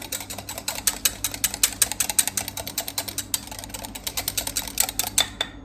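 Rapid, rhythmic clicking and tapping of a utensil whisking vegan egg powder and water in a bowl, steady and close, with no voices.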